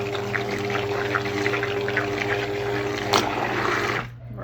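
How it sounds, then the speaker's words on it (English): A blender whirs steadily while blending frozen goat milk, a loud continuous motor drone with churning liquid that cuts off abruptly near the end. "Let me blend this for a second so you can kind of see what I'm talking about."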